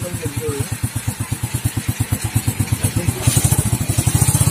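Rusi 125 motorcycle engine idling close by with a steady, rapid pulsing putter that grows slightly louder and rougher near the end, with voices talking over it.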